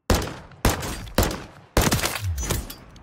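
Four loud pistol shots from a P890 at a shooting range in a video game fire at a steady, roughly half-second rhythm, each a sharp crack with a short decaying tail, close and alone.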